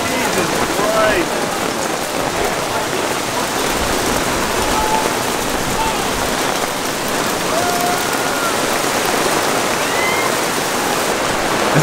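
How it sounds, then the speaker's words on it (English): Hail pelts a truck during a hurricane, a dense, steady roar of countless small impacts drumming on the body, loud and close for the whole stretch with no clear voices. "I've never seen a hail like that."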